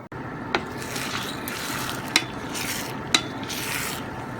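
Scrambled egg mixture with milk and butter cooking in a small frying pan, a steady sizzle with a few sharp scrapes and taps of a utensil against the pan.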